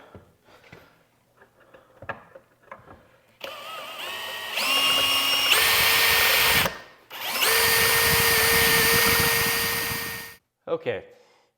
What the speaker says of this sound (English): We're now going to use our drill bit.